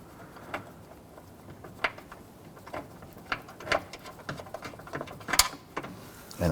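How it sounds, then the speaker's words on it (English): Metal nut spun off the threaded stud of a front upper control arm on a 2011-2023 Dodge Charger, a scattered run of light clicking and ratcheting ticks, close and fairly quiet, with no talk. "I should be able to reach down and spin that nut off."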